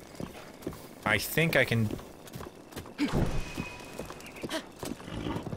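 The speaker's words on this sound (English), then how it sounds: "This was the reason I brought my horse up here in the first place." Horse hooves clop in the Breath of the Wild game, a steady galloping rhythm at moderate volume with a neigh, under someone talking over it.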